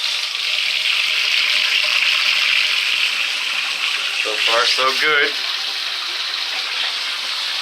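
Cold water runs steadily from a shower after a DIY cartridge repair, a constant hissing spray throughout, with someone briefly speaking over it.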